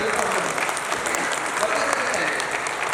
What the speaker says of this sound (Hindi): ताली बजा सकते हैं आप बिंदल?